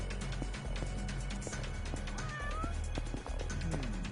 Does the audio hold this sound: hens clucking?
no